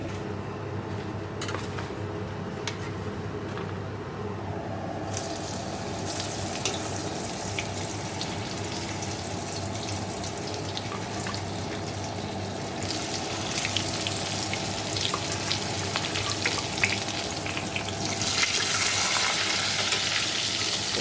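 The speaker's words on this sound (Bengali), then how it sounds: "চলো মাছগুলো ভেজে নিই" Shol fish fry in oil in a pan with a steady, moderate sizzle and crackle, growing a little louder and hissier toward the end.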